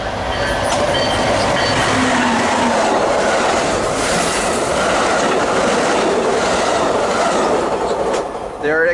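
A southbound Siemens Charger SC44-hauled passenger train passes close by, a loud, steady roar of wheels and rail noise with clickety-clack and brief squealing, easing off at the very end.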